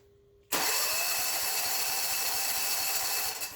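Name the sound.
Briggs & Stratton generator engine cranking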